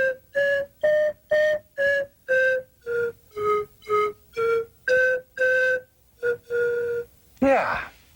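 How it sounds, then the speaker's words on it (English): A slide whistle plays a steady sequence of about a dozen short separate notes at shifting pitches, ending with a quick sliding swoop, clear and close. "Now, on the slide whistle, this is a higher note."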